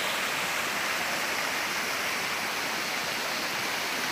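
Mountain stream at a nature park, water rushing steadily beneath and beside riverside huts, a loud, continuous broadband hiss and splash with no voices.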